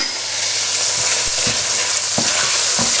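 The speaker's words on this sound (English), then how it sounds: "Just give that all a quick mix around." Garlic and paprika sizzle loudly in a hot pan as they are stirred, a steady close frying hiss broken by several soft scraping strokes of the spoon, with no voices.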